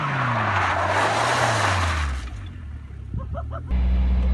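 A Caterham 420 spins out, its tyres skidding and squealing loudly over a roaring engine before the noise drops away and the engine settles back in.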